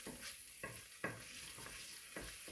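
Pancetta and garlic frying in a pan for spaghetti carbonara, with a steady low sizzle broken by a few sharp scrapes and stirs of a utensil against the pan.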